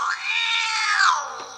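A wet, scruffy angry cat from the Angry Cat app lets out a single long, loud caterwauling yowl that swells and fades over about a second and a half, clear and close with no talking.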